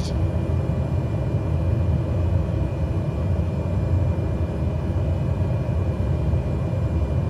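Single-engine Cessna 208 Caravan turboprop idling in flight in a flight simulator, a steady, loud, broadband drone and rumble that stays even throughout, with no talking.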